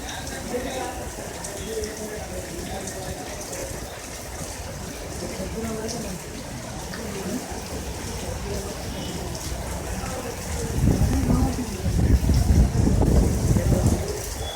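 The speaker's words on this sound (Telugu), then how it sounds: "హైదరాబాద్ లో వర్షాలు మళ్లీ దంచుకొడుతున్నాయి." Heavy rain lashes Hyderabad in a continuous wash of noise, with a deeper rumble swelling near the end; talk is heard over the downpour.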